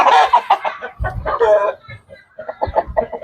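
Free-range hens cluck close by in busy, overlapping bursts, with a rustling thud partway through and more clucking continuing afterward.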